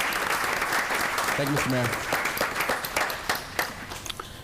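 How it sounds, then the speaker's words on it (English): Audience applause at a township council meeting, a steady wash of clapping throughout that thins toward the end, with someone briefly speaking over it. "I think Dan deserves a great round of applause"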